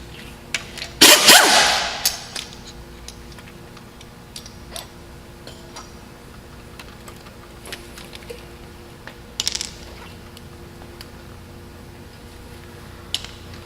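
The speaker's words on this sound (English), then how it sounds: "Want to remove the top idler pulley." Removing the top idler pulley on a Cummins engine: a burst of ratcheting wrench clicks early on, then scattered metallic ticks, taps and a short rattle against a quiet shop background, with no talking.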